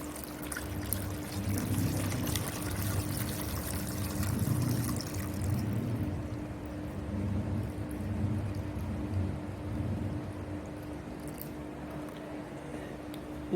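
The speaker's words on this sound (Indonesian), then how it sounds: "Nah, sekarang saya isi dulu di sini dengan air." Water is poured into a container in a steady, soft rushing trickle that runs for several seconds and then thins out, quiet and close, with no voices.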